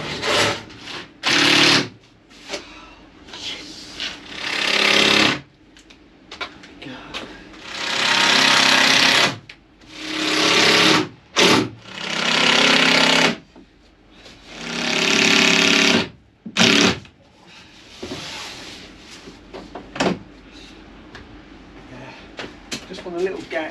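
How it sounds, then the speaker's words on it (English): A power driver screws down a fitting inside a Mercedes Vario camper van conversion, making loud, close, buzzing bursts of one to three seconds, repeated with short gaps and clattering handling noise between them. "Screw it down."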